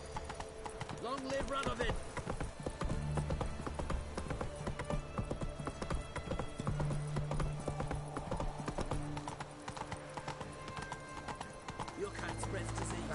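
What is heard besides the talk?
horse Roach's hoofbeats in video game The Witcher 3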